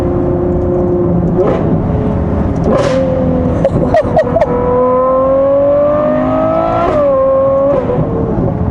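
Ferrari 812 GTS engine revving toward high RPM up close, with several rising sweeps broken by short gear-change dips and sharp pops, loud and without talk.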